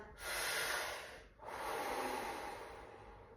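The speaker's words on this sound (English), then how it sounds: "we're going to do 3 breaths through the mouth" Two long, close breaths through the mouth during a fascial exercise, each a loud airy rush lasting about a second with a brief pause between them.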